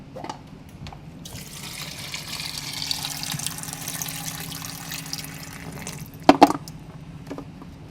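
Running tap water pours steadily into a darkroom sink as photographic film is rinsed before fixing, a continuous close wash with a couple of sharp knocks near the end.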